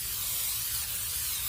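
A short, steady hiss of cooking grease sprayed onto hands, a close continuous spray lasting about a second and a half with no talk over it.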